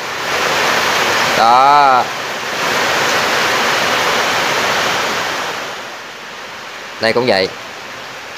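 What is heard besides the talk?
heavy rain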